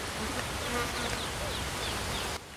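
Bees in a video game drone with a dense, continuous buzz. The sound stays close and steady for a couple of seconds, then drops off sharply at the end, with no talk over it.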